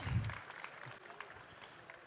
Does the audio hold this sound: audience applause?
yes